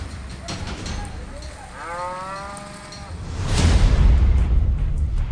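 Cattle and buffalo tethered at a village sub-health centre in Madhya Pradesh; a single drawn-out moo rises in the middle, followed by heavy low rumbling and handling noise, fairly close and loud.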